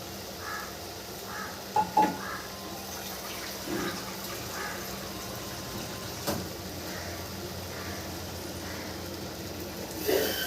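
Water poured into a hot clay pot of cooking greens, with soft sizzling and occasional clinks of a utensil against the pot, quiet and close, no speech.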